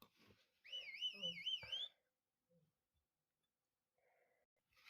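A warbling whistle from a hide-and-seek video game rises and falls for just over a second, fairly loud and alone, then gives way to near silence with a few faint small noises.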